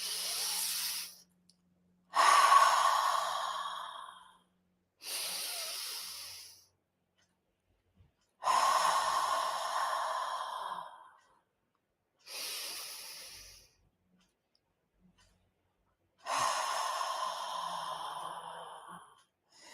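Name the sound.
deep breathing exercise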